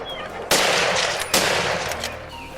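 Two loud, sharp rifle shots crack out about a second apart during a wild boar hunt in a forest beside a wheat harvest, each followed by a rolling echo and a noisy outdoor background.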